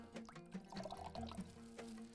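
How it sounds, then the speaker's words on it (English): Water drains and trickles out of soaked mung beans, with gurgling, pouring and faint dripping up close, quiet and unbroken by speech. "I'm going to remove the water, drain the water out of this mung seeds or mung beans."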